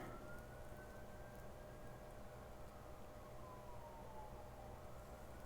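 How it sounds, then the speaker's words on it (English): A distant ambulance siren wails faintly, one slow rising and falling tone carried over a steady low rumble of background noise. "And I hear an ambulance."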